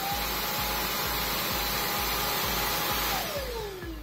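A Xiaomi Dreame V10 cordless stick vacuum runs at suction level 2, a steady close whooshing motor hiss with a faint pulsing throb, its pitch sliding down near the end as it shifts speed.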